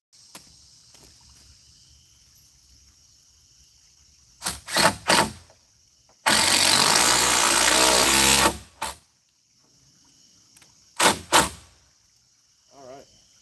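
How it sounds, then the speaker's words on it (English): A power driver whirs in short bursts and then one longer sustained run while a screw goes into a board on a chicken coop at night, with crickets chirping steadily in the quiet between. "So we'll put 1 screw in it and then trim it."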